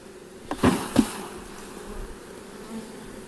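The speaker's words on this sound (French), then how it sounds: "on va secouer des abeilles." Honeybees buzz in a steady drone, with two sharp thumps near the start as a hive frame is knocked to shake the bees off.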